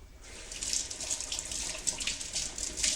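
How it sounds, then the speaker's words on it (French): A running tap rinses sticky rice from hands at a kitchen sink while making sushi and maki: a steady splashing water stream starts after a brief quiet moment, close and moderately loud, with no speech. "je juste me rince les mains parce que là le riz colle"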